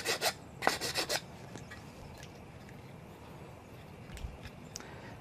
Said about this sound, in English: I'm just giving it a light sand.